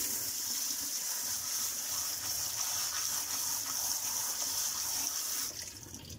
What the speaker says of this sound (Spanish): cogemos un puñadito para lavarlos